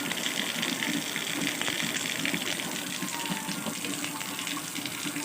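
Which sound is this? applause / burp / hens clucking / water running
water running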